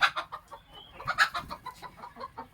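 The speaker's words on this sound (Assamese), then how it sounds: "মোৰ ইয়াতে 110টা মুৰ্গী আছে" Laying hens in a flock of about 110 birds cluck repeatedly in quick, uneven bursts, close and fairly loud, with one sharper squawk partway through.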